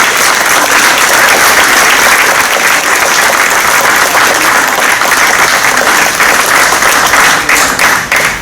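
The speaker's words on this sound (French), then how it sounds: "Vous pouvez m'applaudir hein, parce que c'est la dernière fois." An audience at a town council meeting bursts into loud, sustained applause, a thick wall of clapping that barely wavers for over eight seconds before easing slightly at the end.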